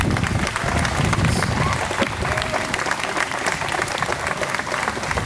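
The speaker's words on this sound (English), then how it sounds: "I want you to give them a round of applause." Sustained applause from a commencement audience clapping for the graduates' parents and supporters, a dense, steady roar of many hands filling the whole stretch at close range.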